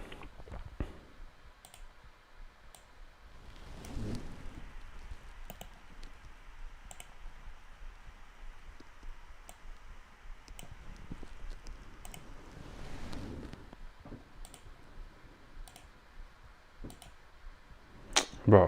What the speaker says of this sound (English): I ain't got time for all this clicking